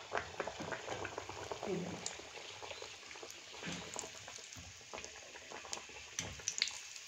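Oil heating in a pan before frying Mangalore buns, a faint, continuous bubbling crackle with scattered small pops, heard close under occasional quiet speech.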